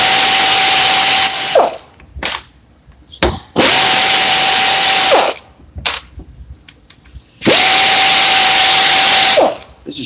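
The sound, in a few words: taking bolts out of a transmission with a power tool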